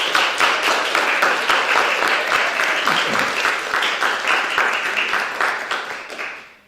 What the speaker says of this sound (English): a small round of applause to those officers now would be most welcome